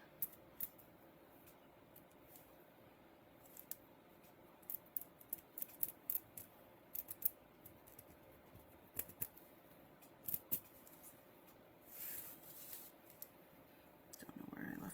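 Scissors cutting along a drawn line on craft material, a scattered series of short crisp snips at irregular intervals, close and fairly quiet, with a brief rustle of handling near the end.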